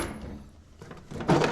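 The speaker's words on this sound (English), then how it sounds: "It should be in this drawer." A drawer in a home workshop, where a Kawasaki KX450F dirt bike is being torn down, slides open with a soft scrape that ends in a thunk, close by and with no talk.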